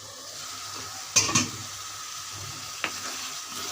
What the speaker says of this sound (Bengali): এখন আমি ভালো করে কষিয়ে নিতে হবে, এখন লেগে যাবে, একটু পরপর নাড়া দিতে হবে।